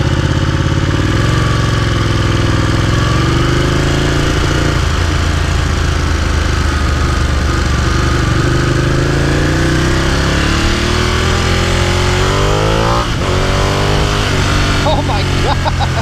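A Ducati Panigale motorcycle engine idles with a steady, deep, close rumble, then revs sharply upward near the end, loud throughout.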